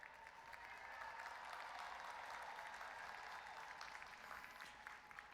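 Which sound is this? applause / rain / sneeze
applause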